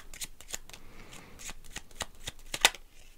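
Lenormand cards are shuffled in a quick series of crisp riffles and soft slaps, close and fairly quiet, with no talking over them.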